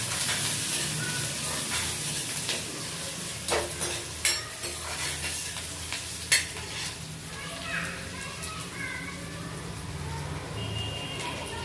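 Onion and garlic sizzling in a pan for a bean-pod bhaji, with a steady frying hiss and occasional scrapes and clinks of a stirring spoon against the pan.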